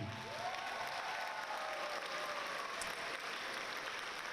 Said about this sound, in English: join me in giving a round of applause to the people in the audience who make this possible for you